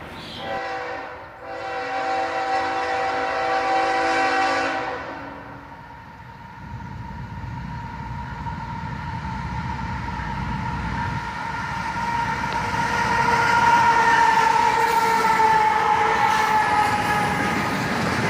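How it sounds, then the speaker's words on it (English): A CSX southbound manifest freight led by an ES44AH locomotive rolls past nearby, its horn sounding steadily for the first few seconds before the rumble and clatter of passing cars builds and holds loud to the end. "A southbound manifest train, led by CSX 925 and ES44ACH"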